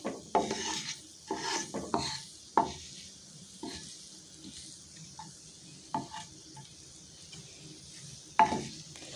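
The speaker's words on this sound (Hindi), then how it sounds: "यहाँ पे हल्के हाथ से बिल्कुल फ्राई कर लेना है" Leftover roti pieces being gently fried and stirred in a pan, with a soft sizzle broken by a string of sharp spatula scrapes and knocks against the pan at an uneven pace.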